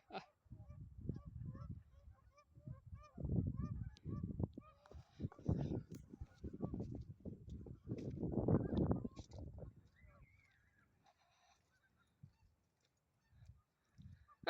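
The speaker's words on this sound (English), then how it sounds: "And you can see the geese." Geese at a lake honk repeatedly in a noisy, overlapping chorus, loudest in the middle and trailing off into a few scattered calls near the end.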